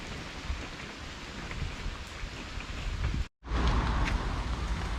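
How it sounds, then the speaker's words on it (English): Heavy rain pours down steadily outdoors along the Camino Portuguese in autumn, a dense wash of drops on surfaces that drops out for an instant, then returns just as loud. "The heavy rain was on and off the whole day."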